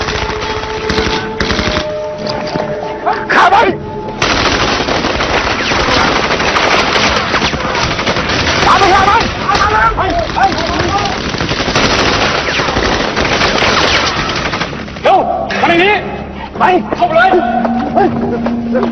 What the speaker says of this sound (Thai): ท่านไปก่อนเลยครับ เดี๋ยวผมยิงคุ้มกันให้